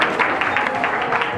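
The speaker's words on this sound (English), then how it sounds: "Once again, a round of applause for Mr." An audience at a corporate talk applauds continuously, a dense, loud wash of clapping filling the whole moment with no pauses.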